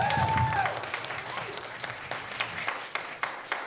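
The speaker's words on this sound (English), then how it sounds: "So just one more time, let's clap it up for y'all." Audience applause at a school graduation ceremony for young men, loud dense clapping that starts strong and continues steadily with a few sharper claps standing out, brief murmur of voices at the start.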